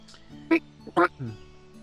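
A person imitates a duck with a few short, nasal quacks in quick succession, close and fairly loud, during a tabletop role-playing game session.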